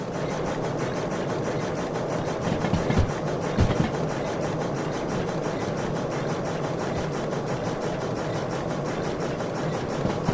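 Toy steam train running on its track and picking up speed, a steady, dense mechanical rush and chuffing hiss that continues unbroken throughout, with a couple of faint knocks near the start.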